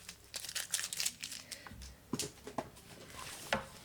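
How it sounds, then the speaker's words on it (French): Adhesive tape peeled off a Q-snap embroidery frame, a series of close crinkly rips and crackles in short bursts with brief pauses, no voices. "j'enlève mon morceau de scotch"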